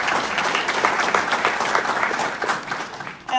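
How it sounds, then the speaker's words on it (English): An audience at a festival recording session applauds its panelists with a burst of close, dense clapping that thins toward the end before a brief sound cuts in. "Quick round of applause for our second set of panelists."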